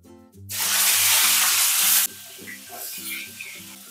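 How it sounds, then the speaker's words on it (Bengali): Cauliflower florets hitting hot oil in a pan where bhetki fish was just fried, giving a loud, sudden sizzling hiss that settles into quieter steady frying under background music. "এবার ওই তেলে ফুলকপিগুলো ভেজে নেব।"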